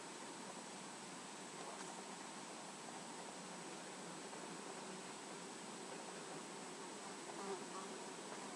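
A housefly buzzes steadily in a house with the windows open, a faint, continuous drone that holds for the whole stretch with no talk over it.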